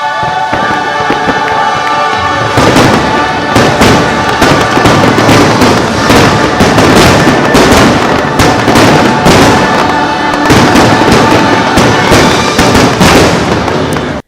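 Fireworks exploding at Magic Kingdom, heard from Adventureland, loud and close with a rapid barrage of booms and crackling bursts that continues without a break after a short quieter lead-in.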